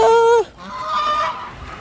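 Geese honk loudly at a Lao-Thai animal market, one close drawn-out honk followed by fainter overlapping honks and market bustle.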